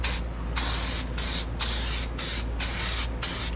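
Bedliner coating hisses from a spray gun onto the fender flares of a Toyota Tundra in six or seven short, loud bursts separated by brief pauses.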